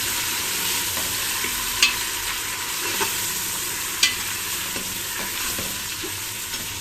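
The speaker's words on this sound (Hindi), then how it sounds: "प्याज मेरा फ्राई हो चुका है और मैं इसमें जो है ये गोश्त ऐड कर रही हूँ" Mutton hitting a pan of already fried onions for kulfa gosht sizzles loudly and steadily at close range, with a few sharp clicks of a stirring spoon and no voices.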